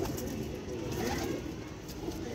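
Pigeons coo softly on a rooftop, low murmuring calls that repeat under a faint ambient background, with no talking.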